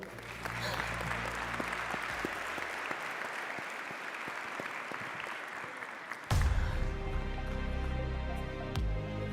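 An audience at a prize ceremony applauds the winner of a global teacher prize, steady dense clapping that swells louder partway through, with cheering and a burst of stage music joining in.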